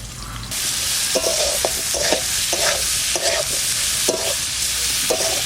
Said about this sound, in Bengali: আলু আর পেঁয়াজ দিয়ে ভাজা ভাজা হয়ে গেছে